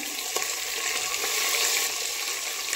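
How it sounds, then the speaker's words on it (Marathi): Cashews and green chilies fry in hot oil for veg pulao, a dense, continuous sizzle that stays loud and close throughout. "थोडं क्रिस्पी होईपर्यंत असं तेलावरती तळून घ्यायचं आहे।"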